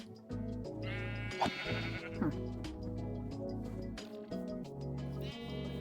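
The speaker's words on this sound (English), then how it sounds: "No, that's a baby sheep." Repeated baby sheep bleats in Minecraft, loud and close, over a steady background music track.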